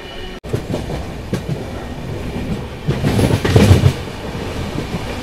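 The Hubballi–Bengaluru Jan Shatabdi Express rolls along the rails between Tiptur and Tumakuru, heard from inside as a steady rumble with rhythmic clickety-clack of the wheels that swells louder partway through.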